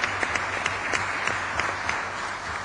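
Members of Florence's city council applaud in their chamber, a broad steady patter of many hands clapping with a few sharper individual claps standing out, moderately loud, no talking.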